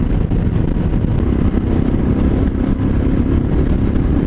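A Royal Enfield Himalayan motorcycle engine drones steadily while the bike is ridden, a continuous low rumble mixed with wind, loud and close throughout with no talking.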